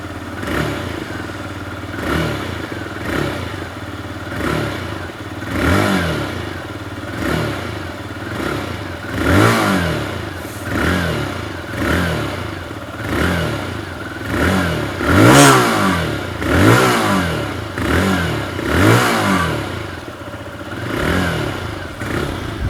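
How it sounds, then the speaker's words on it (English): A TVS Raider 125 motorcycle revved repeatedly in close range, its throaty exhaust rising and falling in regular bursts about every second and a half, loud and alone. "this bike also has quite a throaty exhaust note"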